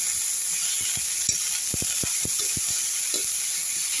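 Bitter gourd peels and onions fry in a pan. A steady sizzle runs throughout, with a series of scraping stirs in the middle, and no talking.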